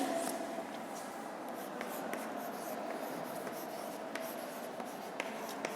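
Chalk or marker scratches steadily across a classroom board as a definition is written, a continuous close scraping texture with small taps and no talk.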